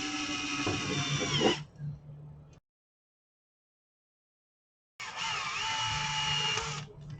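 A cordless drill driving screws into an RC monster truck chassis near the motor mount, two close whirring bursts of several seconds each with a pause of silence between them.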